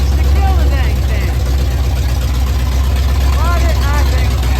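A built 351W V8 in a 1980 Ford F-150 runs at a steady, loud idle with a deep low rumble, while someone talks over it.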